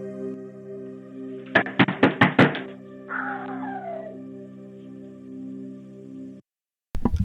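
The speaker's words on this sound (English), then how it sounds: "going around the apartment building knocking on several doors" A man knocking on apartment doors in a building at night: a rapid burst of about six sharp knocks over a steady electrical hum, followed by a brief scraping sound and a later clatter.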